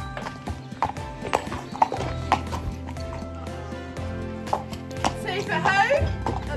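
Hooves clip-clop on a hard surface in an uneven rhythm nearby, followed by a horse whinnying toward the end, with a voice briefly speaking.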